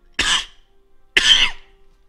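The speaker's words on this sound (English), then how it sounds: "I had a coughing attack or something like that." Two sharp, loud coughs from one person, about a second apart, close and alone with silence between them.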